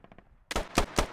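Gunfire in the military shooter game Squad: a few faint distant pops, then three loud, close shots in quick succession, each with a brief ringing tail.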